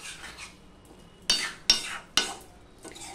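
A spoon stirs okra (bhindi) curry in a pan after salt is added, giving three sharp, separate scraping strokes over a quiet background, with no talking.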